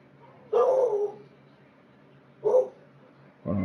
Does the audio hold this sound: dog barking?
yes